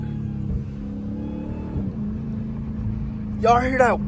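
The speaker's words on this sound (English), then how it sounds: "Y'all hear that whine though?" A Dodge Hellcat Jailbreak fitted with a very loud aftermarket intake runs nearby with a steady droning whine, and someone speaks briefly over it near the end.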